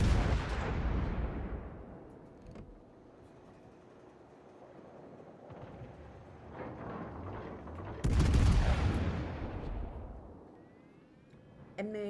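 Naval artillery explosions in World of Warships: two heavy, booming blasts about eight seconds apart, each a loud low rumble that decays slowly over a couple of seconds, with quieter battle noise in between.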